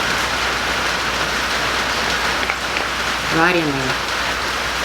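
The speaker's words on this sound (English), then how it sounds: "you guys can probably hear that it's raining" Steady rain falls on a farm, a dense, even hiss of drops that runs through the whole stretch, with a brief spoken voice near the end.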